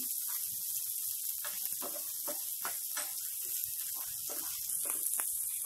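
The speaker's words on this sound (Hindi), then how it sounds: "अब हम उसमें एक मीडियम साइज प्याज डालेंगे जिसे हमने बारीक काट लिया और इसे भी हम आधा मिनट तेजने से फ्राई कर लेंगे" Finely chopped medium onion frying hard in a hot pan for a pasta dish, a steady loud sizzle and hiss running throughout with small crackles and spatters, close by.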